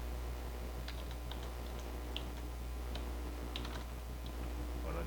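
Someone types an MS-DOS command on a computer keyboard, light scattered key clicks in uneven bursts over a steady low hum, fairly quiet, with no talking.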